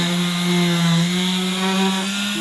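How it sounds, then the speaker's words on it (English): A power sander works a scrap pallet wood plaque, giving a steady, loud, close whine with a strong constant hum that runs the whole time without pause. "Secondly, just give it a little sand."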